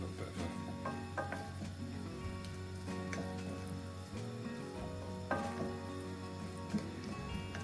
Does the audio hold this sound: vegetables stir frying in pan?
yes